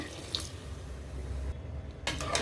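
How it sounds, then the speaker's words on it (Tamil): Hot water is poured into oats in a pot for masala oats, a steady close splashing pour with no talking. "நான் வந்து சூடான நீர் தான் சேர்த்துக்கிறேன்."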